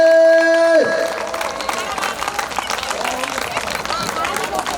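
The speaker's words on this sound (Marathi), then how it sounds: "टाळ्याचा आवाज वर झाला पाहिजे." An audience at a haldi-kumkum women's game show claps in a dense, sustained burst of applause with some crowd murmur, loud and steady after a brief tone fades.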